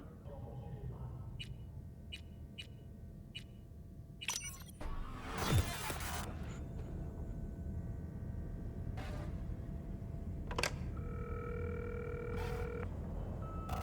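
An antique telephone in the Cyberpunk 2077 game, with a series of short dialing beeps followed by a steady tone and tonal signals over a low background hum.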